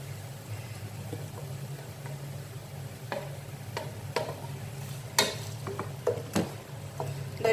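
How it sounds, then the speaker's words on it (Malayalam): Onion and green chillies sautéing in a pan for chicken machboos, with a steady low sizzle and scattered scraping clicks of stirring, no talking. "സബോളയും പച്ചമുളകും ചേർക്കുന്നുണ്ട്."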